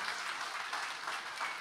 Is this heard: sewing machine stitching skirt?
no